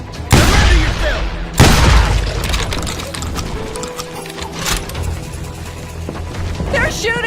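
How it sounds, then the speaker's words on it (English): In Call of Juarez: Gunslinger, a western street shootout opens with two loud close gunshot booms, followed by a busy clatter of game effects and shouting voices. "They're shooting in the street!"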